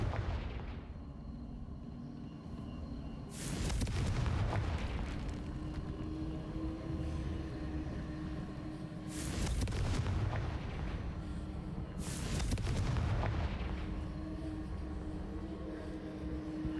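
Confringo blasting spells explode in Hogwarts Legacy, three loud booming blasts spaced apart over a steady rumbling background, with no talk.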